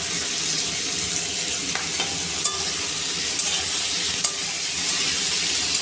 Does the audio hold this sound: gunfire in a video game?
no